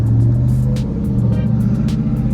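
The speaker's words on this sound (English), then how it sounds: "I thought I'd just make a quick little video while I'm in the car and actually driving the car" Inside a moving Nissan Sentra, a steady low engine and road rumble holds throughout, with faint bumps and rattles rising briefly above it.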